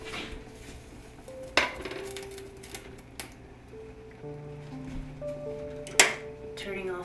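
A few sharp metallic clanks ring out as the lid is lifted from a pot of pig tails after three hours of cooking, close and scattered over a quiet kitchen hum, with people talking in the background.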